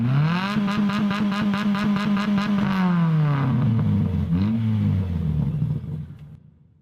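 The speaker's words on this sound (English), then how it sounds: "I used another Twingo engine sound but with higher revs, and it fades into the synth hook." Renault Twingo engine revving hard, its steady high-rev drone holding a bright harmonic pitch before sliding and wavering, then dying away into quiet; close and loud, with no voices.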